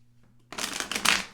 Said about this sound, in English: I feel like I need to shuffle one more time.